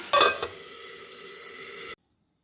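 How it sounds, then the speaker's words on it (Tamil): Tomatoes sautéing in a pan for a Tamil tomato egg thokku, a loud steady sizzle with stirring scrapes near the start, heard close and alone before cutting off abruptly. "இப்போ நான் நல்லா வதக்கி விட்டுக்கிறேன்"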